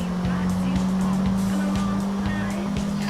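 The Futo car in the video game GTA IV drives with a steady engine drone, its pitch shifting slightly, while brief tire and handling noises come and go and speech-like sound is present underneath.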